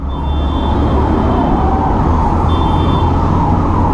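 A faint wailing ambulance siren rises and falls over a loud, steady rumble of traffic and engines in a night traffic jam on Manali's Mall Road, with no voices.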